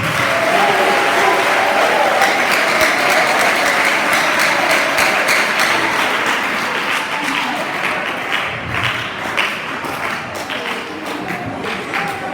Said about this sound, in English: Clap hands for yourself